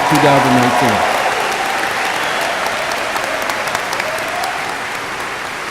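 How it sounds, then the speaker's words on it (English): Graduating-class commencement crowd at a spring ceremony in Daytona Beach breaks into loud, sustained applause and cheering that fills the whole stretch, a speaker's voice briefly heard over it at the start. "please join me again in a big cheer and a round of applause for a job well done for the graduation class"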